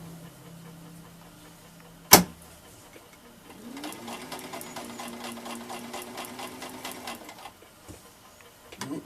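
A Singer 1591 sewing machine stitches folded fabric, one sharp click first, then a close, steady whirring run of rapid needle strokes that slows and stops near the end.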